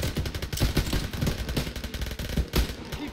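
Machine gun fire rattles through a Call of Duty WWII battle, rapid bursts of shots at moderate distance blending into a dense, ragged clatter of gunfire with a few sharper reports.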